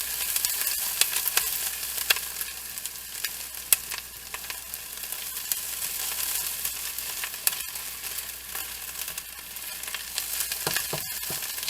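Garlic and onions sautéing in a pan on the stove for clam chowder, a continuous crackling sizzle with scattered pops and scraping ticks from stirring, steady and close, with no voices.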